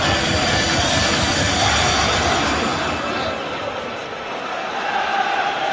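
Dense, loud roar of a large football crowd at a Derby County v Manchester United Premier League match, a steady wash of voices and cheering that dips slightly then swells again, with no pauses.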